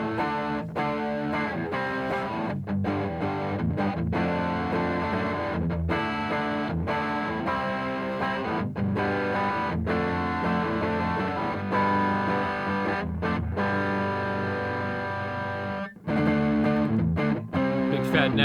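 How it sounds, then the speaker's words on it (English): An Epiphone Les Paul Modern electric guitar on its bridge pickup through overdrive plays a rock riff, with thick sustained chords broken by short choked stops, loud and upfront throughout. "here's the Epiphone coming at you with some drive on the bridge"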